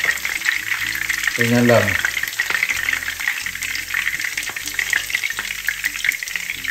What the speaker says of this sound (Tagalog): Yung parang igisa lang natin ng bahagya